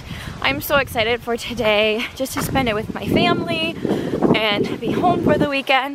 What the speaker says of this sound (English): It is windy out this morning, so apologize for the wind.